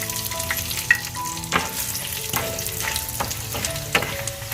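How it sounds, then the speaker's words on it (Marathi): Garlic, curry leaves, chilli and dal sizzle steadily in a pan of hot oil, a close, continuous crackle with a few sharper pops and stirring scrapes, with no talking. "लसूण कढीपत्ता मिरची डाळ घालून घ्यायची आहे"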